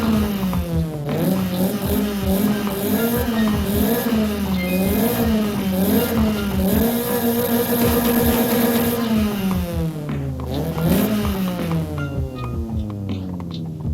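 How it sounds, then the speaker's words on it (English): Stock Nissan S15 engine in Forza Horizon 5, a steady buzzy drone that rises and falls in revs repeatedly, with a rev climb and drop near the end, loud and close with no talk. "let's take a listen and obviously just soak in the S15's beautiful car sound"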